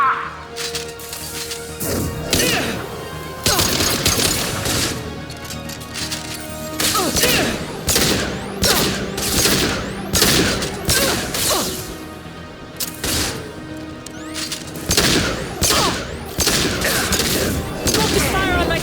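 Sci-fi combat gunfire from Mass Effect 2, with dense overlapping weapon bursts, impacts and crashes running continuously under a layer of battle noise and voices.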